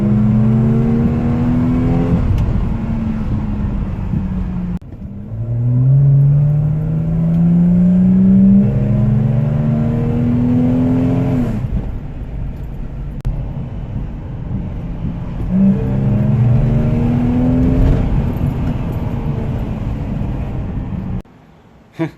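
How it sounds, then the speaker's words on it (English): Ford Falcon BA-BF Barra engine fitted with a pod filter air intake, heard from inside while driving: loud, close engine and intake roar that climbs in pitch through several acceleration pulls, easing between runs. "Yeah, definitely some pod filter noise."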